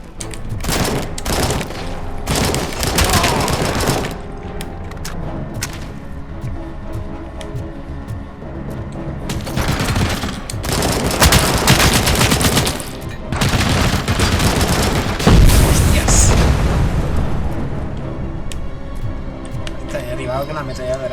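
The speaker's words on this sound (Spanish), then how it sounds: "Con la ametralladora." Machine gun fire and explosions from the video game RoboCop: Rogue City pour out in loud, dense bursts throughout, with booming impacts mixed in and someone talking over the action.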